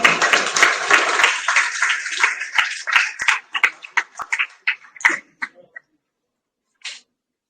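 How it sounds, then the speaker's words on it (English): An audience at an award ceremony breaks into a short burst of applause that quickly thins out into scattered individual claps before fading to silence, with one last isolated clap near the end. "Please give a huge round of applause."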